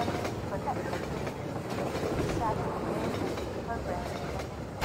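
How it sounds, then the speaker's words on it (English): A train rolls past steadily in the video game Half-Life 2, a continuous rumbling rattle with faint clickety-clack, moderately loud and unbroken throughout. "I need to get on this train."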